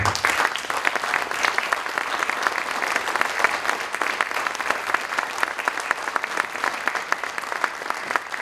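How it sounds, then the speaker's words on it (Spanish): Warm, steady applause from colleagues at a seminar, a dense even patter of many hands clapping for several seconds with no talking. "brindarte un aplauso caluroso de tus compañeros"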